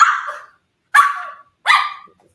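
A dog gives three separate sharp barks, close and loud, spaced with short silent gaps between them.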